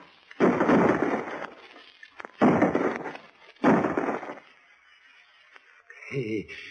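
A radio drama gunfire volley: three heavy booming bursts of shots at regular intervals, loud and close, followed by a short stretch of speech-like tone.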